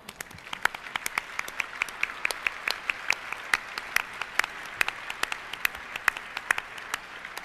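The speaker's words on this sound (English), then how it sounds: "Let's applaud them all now." A crowd at a gala dinner in Gotham Hall applauds with sustained, even clapping that stays strong throughout, with sharp individual claps standing out near the listener.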